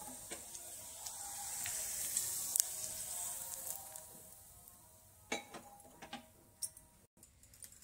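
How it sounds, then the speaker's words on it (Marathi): Hot cumin and green chili tempering, cooked on a stove now switched off, is poured over gopalkala ingredients, giving a faint, soft sizzle with scattered small ticks and crackles. "आता ही फोडणी आपण हे आपल्या सर्व साहित्यामध्ये टाकून घेऊ"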